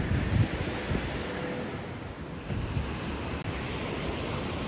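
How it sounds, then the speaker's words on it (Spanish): Ocean surf washes steadily onto a beach, a continuous broad roar of breaking waves mixed with gusty wind buffeting the microphone. No voices are heard. "Agua, porque ahí viene la ola."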